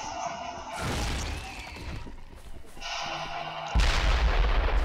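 Explosions in the zombie game Dead Island Definitive Edition: two loud booming blasts, each followed by a rumbling roar, with a quieter gap between them.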